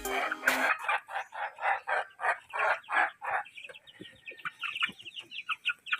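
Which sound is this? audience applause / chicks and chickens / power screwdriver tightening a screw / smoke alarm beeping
chicks and chickens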